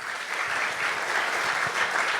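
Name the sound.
audience applause at a youth conference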